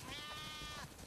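Single drawn-out sheep bleat from The Last of Us Part II, steady and fairly close, lasting most of a second over soft game ambience.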